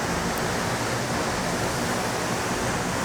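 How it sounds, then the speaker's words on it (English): A waterfall with a couple of drops among pine trees roars steadily, a dense broadband rush of falling water with nothing else standing out. "Quite a lovely waterfall with a couple of drops, all the pine trees around."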